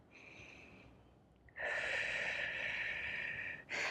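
A soft, slow breath drawn in, then a longer, louder exhale through the nose, close and steady, with a short puff at the end, taken during a standing Pilates workout.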